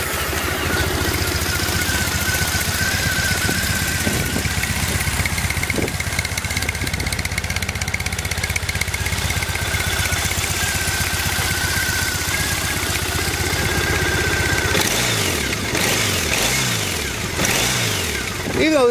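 Carbureted engine of a 2009 Triumph Bonneville motorcycle idling steadily, a close, even rumble that blips briefly near the end, with a person talking faintly over it.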